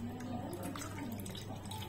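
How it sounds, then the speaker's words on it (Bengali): Leftover watermelon juice pours through a strainer with a soft, quiet trickle and faint dripping, set against a low steady hum. "তো আবার যে বাকিটা ছিল সেটাও আমি ঢেলে নিচ্ছি।"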